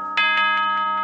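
Doorbell ding-dong in the video game FNAF Killer in Purple, a loud, bright electronic chime with sustained tones and several quick rhythmic pulses, close and alone without talk.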